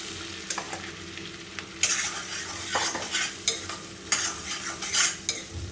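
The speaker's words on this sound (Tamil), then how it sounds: "தேங்காய் நல்லா ஒரு ஒரு ரெண்டு கரண்டி போட்டுக்கலாம் வறுத்துக்கலாம்" Grated coconut roasting in a pan with a soft sizzle, a ladle scraping and stirring in irregular strokes, close and moderately loud, while making Thiruvathirai kali.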